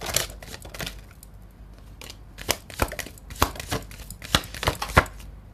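Tarot cards are shuffled by hand in irregular bursts of crisp riffling and slapping, close and fairly quiet, with short pauses between the flurries.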